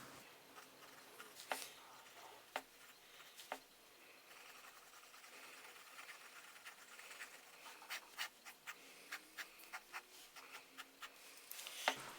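A fine-nib fountain pen scratching across paper in a quiet room, with faint, brief strokes in an uneven rhythm that grow busier and quicker toward the end, close up and soft.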